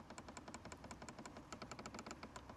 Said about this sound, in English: nice clicking sounds for the climate unit, temperature and fan speed